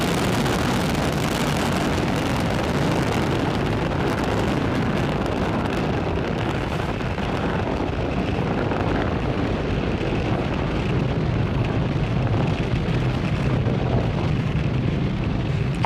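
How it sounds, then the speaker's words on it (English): A SpaceX Falcon 9 rocket lifts off from Pad 40 at Cape Canaveral, a continuous loud, broad roar with heavy low rumble and wind-buffeted crackle, steady and unbroken throughout. "Falcon 9 has successfully lifted off from Pad 40 at Cape Canaveral Space Force Station"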